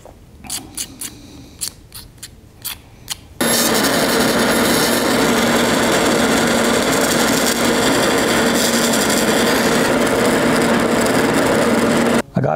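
A bandsaw cuts through resin bone casts in a workshop: a few short scraping strokes, then a loud steady cutting whine that runs continuously for about nine seconds and stops abruptly.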